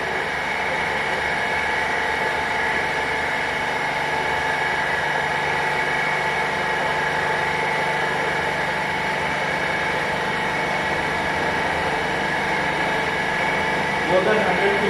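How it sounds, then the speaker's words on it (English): A compression testing machine loads a timber specimen, giving a steady mechanical hum and motor drone that holds throughout with no break, at moderate level. "You will see the load is being applied on this timber specimen."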